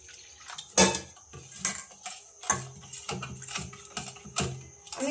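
A bowl of semolina being mixed with salt and water, giving a series of sharp clinks and scrapes of a spoon against the bowl at an irregular rhythm, close and fairly quiet.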